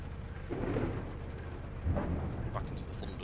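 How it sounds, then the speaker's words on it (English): Rolling thunder in a Train Simulator 2020 storm scene on the SWML, two low rumbling swells a second or so apart over steady heavy rain noise, heard from inside a train cab. "Back into the thunder again."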